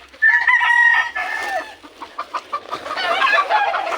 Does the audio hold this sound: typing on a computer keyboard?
no